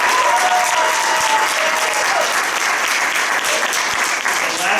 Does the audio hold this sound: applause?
yes